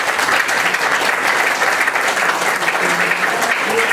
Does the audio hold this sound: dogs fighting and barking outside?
no